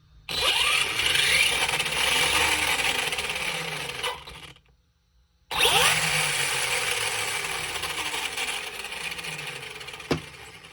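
A brushless ARRMA Senton 2WD RC car motor whines as it is throttled in two bursts with a brief silent gap between them, close and fairly loud, and its pitch sweeps as the throttle changes.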